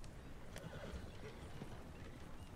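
Horse hooves clopping softly in Red Dead Redemption 2, faint and distant beneath a steady wash of game ambience, with no talk.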